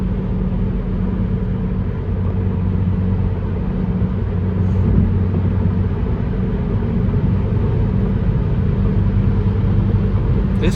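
A fast car cruises at speed on a late-night drive, its engine giving a steady, loud, continuous low rumble with road and wind noise that holds evenly throughout, no voices.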